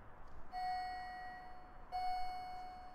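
A Roblox elevator sounds its arrival chime twice, a soft two-tone electronic ding with sustained tones, the second strike about 1.4 seconds after the first, over quiet background noise.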